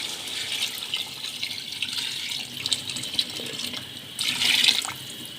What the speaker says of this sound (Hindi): अब हम इसमें यखनी डाल देंगे।